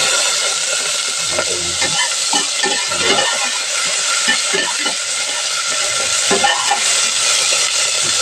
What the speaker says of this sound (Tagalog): ito na po yung ating gigisahin na natin yung ating sibuyas